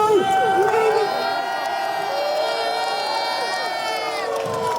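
A large, densely packed crowd at a Unite the Kingdom rally fills the air with a loud, continuous wash of many overlapping voices, shouts and cheers.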